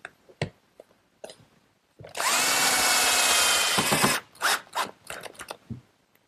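Power drill driving screws into an outdoor cupboard frame, one sustained whirring run of about two seconds, close and loud, framed by softer clunks and handling sounds.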